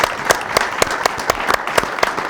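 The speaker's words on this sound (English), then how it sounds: "So let's give Tanay a round of applause." A small audience claps after a talk, with sharp, distinct hand claps standing out from a thinner layer of applause at close range. The claps come in a fairly regular rhythm.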